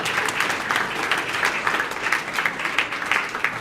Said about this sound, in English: a big round of applause to Jerry